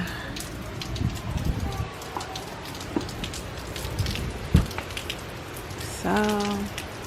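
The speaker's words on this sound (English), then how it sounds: "So it just looks like rain." Steady rain falls outside a house during Hurricane Idalia, a broad hiss with scattered drops and taps, plus a brief tonal sound near the end.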